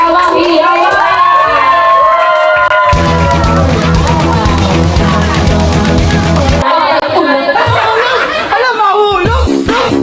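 A crowd at a New Year's celebration cheers and shouts loudly and continuously, with children's voices and bursts of laughter mixed in throughout.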